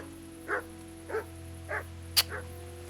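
A dog in Kingdom Come Deliverance barks in short, evenly spaced bursts, about four or five yips over a low steady hum, fairly close and moderately loud.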